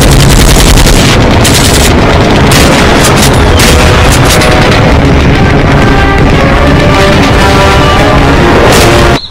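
Loud, dense gunfire crackles nonstop, bursts of rapid automatic shots blending with heavy booms, like a chaotic firefight that cuts off abruptly at the end.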